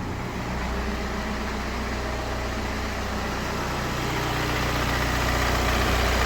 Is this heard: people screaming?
no